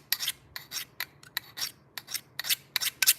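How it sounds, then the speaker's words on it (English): A carbide tip scrapes a burr off a scissor blade in short, sharp rasping strokes, about a dozen quick scratches in an uneven rhythm, close and fairly quiet with no talking. "I take this carbide tip and I just move the burr to the other side"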